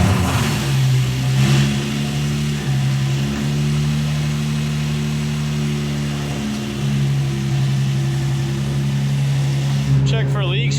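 A drift car engine in a Japan build runs loudly and steadily, its tone swelling and easing as it is revved, with people talking over it.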